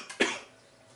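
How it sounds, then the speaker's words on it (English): A person recovering from a cold gives a single sharp, close cough that trails off quickly into quiet. "I'm recovering from a cold here, so I may be coughing."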